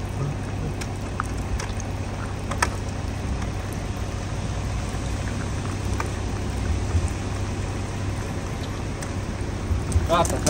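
Steady rain falling on a parked car in Germany, a dense even patter with a few sharper drop hits, close and continuous throughout, with a voice faintly present underneath.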